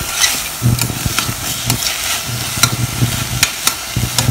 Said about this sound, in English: I'm going to cook this a little bit till it becomes translucent.